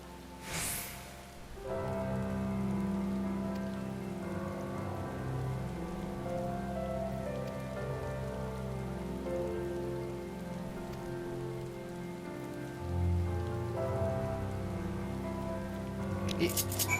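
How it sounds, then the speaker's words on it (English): Rain falls on a dark night in the video game Final Fantasy XIV, a soft, steady patter that runs beneath sustained, quiet musical tones. "Even in this dark, rainy night, which I guess the rain just kicked up"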